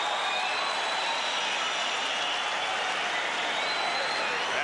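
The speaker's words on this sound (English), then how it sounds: "This crowd cheering the action that took place in the second round" Boxing arena crowd at a Holyfield vs Parkey bout roars and cheers at the end of round two, a dense, steady wash of voices and applause filling the hall without letup.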